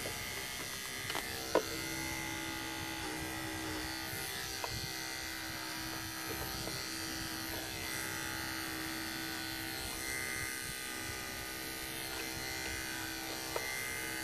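Electric clippers buzz steadily and close up while shaving a show goat's beard, a continuous droning hum for about fourteen seconds broken by a few faint clicks and bumps, with no voices.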